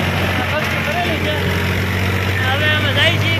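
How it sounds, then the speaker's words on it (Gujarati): A tractor chugs along a road, its engine giving a constant low hum close by, with a voice speaking above the drone. "જોવો તમે આગળ જાય છે ટ્રેક્ટર"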